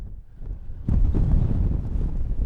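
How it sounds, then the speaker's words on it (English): Strong wind buffets the microphone in low, blustery rumbles on the Fairfield Horseshoe fells near Windermere, getting louder and gustier partway through, with no one speaking. "still really windy"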